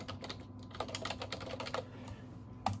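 Computer keyboard typing on a PC running the Windows Codename "Whistler" Beta 1 build, a quick, close run of clicky keystrokes over a faint steady hum, with no talking.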